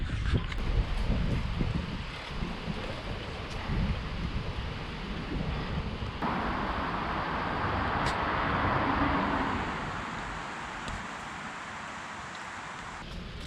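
Steady rushing wind noise buffeting the microphone while cycling with a tailwind in Norway, broadband and continuous, growing a little louder midway, with a faint hum of motion underneath.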